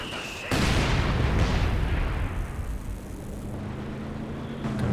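A Model 24 stick grenade in Company of Heroes 2 goes off in one sudden loud blast, its rumbling decay fading over a few seconds beneath ongoing battlefield noise.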